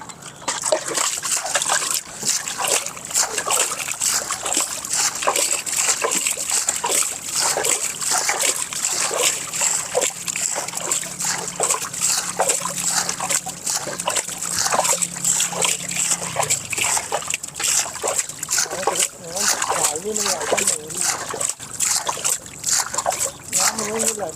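Water gushes and splashes continuously, flowing out strongly while being drained during an oil change, loud and close with steady turbulent splatter and voices in the background.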